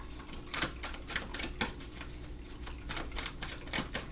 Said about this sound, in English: Okay, we're shuffling out some tarot.